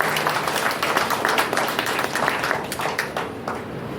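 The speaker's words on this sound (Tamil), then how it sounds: "உண்மையிலே ஒரு நல்ல பலத்த கைத்தட்டத்தை நீங்கள் அவருக்கு கொடுக்கணும்" An audience claps for a poet at a Tamil literary gathering. The applause is dense and continuous and stays strong throughout before easing slightly near the end.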